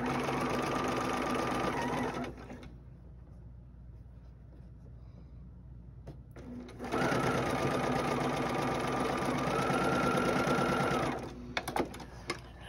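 A sewing machine stitches quilt seams in two steady bursts of whirring, separated by a quiet pause, close and clear with no talking.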